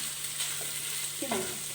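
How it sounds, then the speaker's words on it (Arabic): Broccoli and cauliflower frying in a pan, a steady soft sizzle with a couple of brief stirring scrapes near the end, close and moderately quiet, no talking. "انا هنا باش نخليهم يتقلوا لي شويه"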